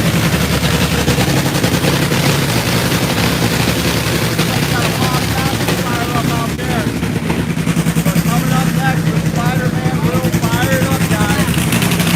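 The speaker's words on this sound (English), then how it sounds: "So we got a fun, I think it's a funny car fire up out here." A funny car drag racing engine fires up in the pits at an NHRA event, a loud, continuous, harsh rapid-fire roar filling the scene at close range while people talk over it.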